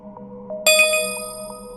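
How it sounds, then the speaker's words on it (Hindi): A mobile phone message notification rings out as a sudden bright ding, a clear metallic chime over a faint low hum that rings on and slowly fades. "फिर मोबाइल पर नया मैसेज आया,"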